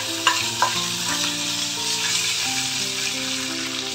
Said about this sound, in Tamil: இந்த கருவேப்பிலை கிறிஸ்பி ஆயிடுச்சு.